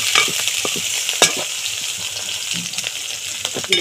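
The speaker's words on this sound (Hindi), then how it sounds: "और मिर्चा डालिए" Chillies are tossed into a pan of frying onions, a steady loud sizzle with scraping stirs and small clinks over it, continuous and close.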